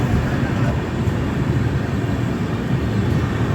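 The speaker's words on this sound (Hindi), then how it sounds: "सामने से ट्रेन आ रही है" A local passenger train in India rumbles steadily close by, a dense low roar with rail clatter that holds at a constant, loud level throughout.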